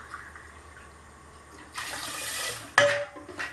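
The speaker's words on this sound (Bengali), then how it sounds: "আর আমি 3 কাপ মতো এতে জল নেব" About three cups of water poured into two cups of sugar for rasgulla syrup, a steady splashing pour that grows louder partway through and ends in a brief clatter, close by, with no talk.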